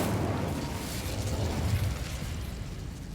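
An Incendio fire spell goes off in Hogwarts Legacy, a rumbling burst of flame and crackle that swells loud and close, then slowly fades over a few seconds.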